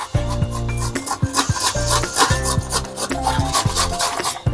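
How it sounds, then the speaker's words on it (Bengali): Peeled raw papaya rubbed along a grater: rhythmic rasping strokes in quick repeated bursts, close and loud, with no talking. "গ্রেটারে পেঁপেটা ঘষে নেব।"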